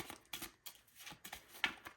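Cards from the Northgard board game are shuffled by hand in a quiet room, giving a series of soft riffles and brisk slaps with short gaps between them.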